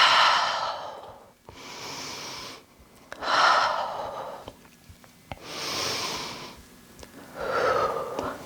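Slow, steady breaths drawn in and pushed out through the nose while holding a warrior 2 yoga pose, five or six long audible exhales evenly spaced and close up, with no talking.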